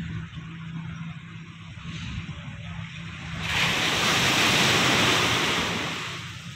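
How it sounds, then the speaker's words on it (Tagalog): Steady broadband wash of surf that swells louder midway through, a continuous roar of waves breaking near the shore with light wind, people wading in the water. "Nasa tabing dagat."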